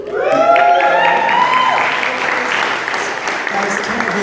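Audience applause at a speaker-series talk, a steady broadband wash of clapping that fills the room, with whoops or voices mixed in early on before it settles into even sustained applause.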